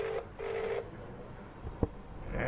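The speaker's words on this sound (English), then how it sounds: "As you can probably hear the phone ringing on the other end, right?" Ringback tone from a mobile call to another phone, faint and slightly muffled, with two rhythmic ringing bursts heard through the earpiece, then a short click and the start of a third.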